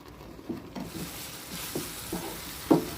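A spoon stirring a coconut powder and milk mixture in a pan over a soft sizzle, with a few distinct scraping knocks against the pan, close and without talk.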